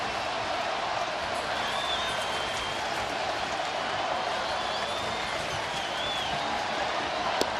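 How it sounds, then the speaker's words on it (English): Sellout baseball crowd on its feet cheering at an Oakland ballpark game, with a steady, dense roar and applause that holds at an even level throughout. "Sellout crowd on their feet"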